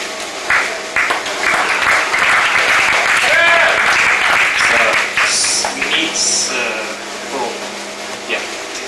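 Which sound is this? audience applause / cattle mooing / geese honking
audience applause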